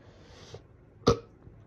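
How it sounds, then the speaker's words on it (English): A single short burp, close to the microphone, over quiet room hiss with a faint murmur before it. "I'm gonna burp first, though."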